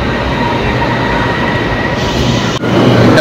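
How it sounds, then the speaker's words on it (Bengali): A Kuala Lumpur monorail train pulls into the station with a loud, steady rolling rumble and mechanical hum close by, a brief clunk near the end, no voices. "আপাং আমাদের ট্রেন চলে এসেছে"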